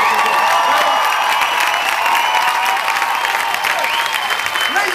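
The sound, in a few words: audience applause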